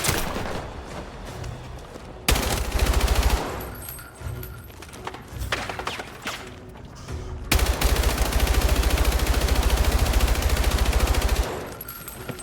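Bursts of automatic gunfire in the video game Battlefield 6, rapid repeated shots in loud sustained volleys with brief gaps and some thuds between them.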